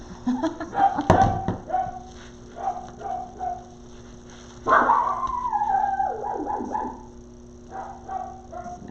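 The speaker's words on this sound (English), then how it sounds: "don't know what my dogs are barking at," Dogs bark in several bursts, a sharp close bark early and a longer yelping run midway, with quieter barks between and a faint steady hum behind.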